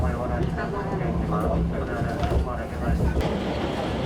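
Mugunghwa train running on the Taebaek line in Gangwon-do, a steady, continuous rumble of wheels and carriage noise heard from close by, with people talking over it throughout.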